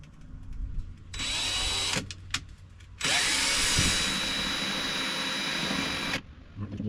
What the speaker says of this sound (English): You do have to drill these top holes in 3/16 drill bit.